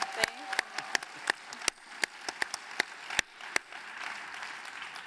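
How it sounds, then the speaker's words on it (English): Scattered applause at a live event, with a few sharp, distinct claps close by standing out over softer crowd clapping further back, irregular and thinning out toward the end. "Give them a round of applause."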